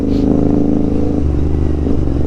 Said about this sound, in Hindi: क्या मजेदार एग्जॉस्ट नोट देती है ये